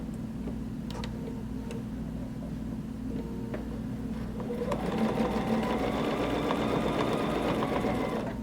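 A quilting sewing machine stitches a quilt block with ruler work, a fast steady mechanical whir that rises louder partway through, with light ticks and clicks before it speeds up.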